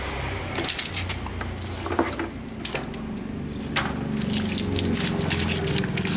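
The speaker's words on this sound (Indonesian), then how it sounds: "Kemudian kita beri air ya, saya ambil air dari keran." Water runs from a tap into a container as a chlorine cleaning mix is prepared for washing a screen-printing screen. A continuous, splashing gush with uneven bursts plays without any talk and grows slightly fuller near the end.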